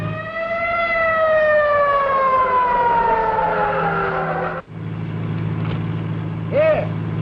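A wailing ambulance siren in a 1938 film sweeps downward in pitch for several seconds over a low engine drone, then cuts off abruptly before a short chirping burst returns near the end.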